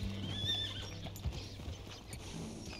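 Horse hooves clopping with a whinny in the video game Red Dead Redemption 2, steady background ambience and faint mechanical clicks, no talking.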